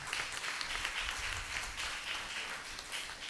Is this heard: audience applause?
yes